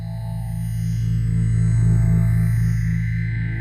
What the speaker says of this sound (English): the roll-off becomes steeper and the sound becomes more resonant